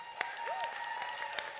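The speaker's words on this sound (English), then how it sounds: "Give another round of applause." Audience applause fills a convention hall, a steady wash of clapping with a few sharper claps standing out, moderately loud and continuous across the short stretch.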